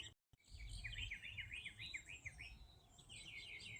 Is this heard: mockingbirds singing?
yes